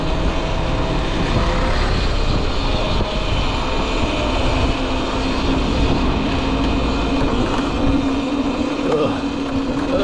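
A Cake Kalk electric enduro motorcycle being ridden over rough ground, with loud continuous wind buffeting and rumble throughout and a faint whine rising underneath.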